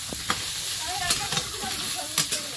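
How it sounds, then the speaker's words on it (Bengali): Soya chunks frying in oil in a wok, a steady close sizzle with occasional stirring clinks and scrapes, while a person talks over it. "কড়াই তেল দিয়েছি, সয়াবিনটা একটু ভেজে নেব।"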